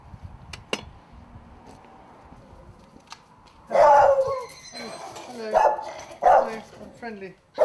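A dog barks at a doorstep during door-to-door political canvassing, several sharp barks and yips in a cluster after a quiet stretch of faint background chatter and clicks, fairly close.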